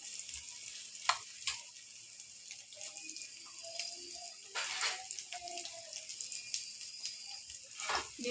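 An egg fries in a pan, a soft, uneven sizzle with bursts of hissing and a few light pops, fairly faint and without speech.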